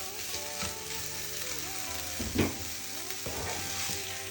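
Fresh coriander stirred into a frying pan while cooking an Ekadashi lunch, with a steady close sizzle under intermittent scraping stir strokes, one louder clatter near the middle.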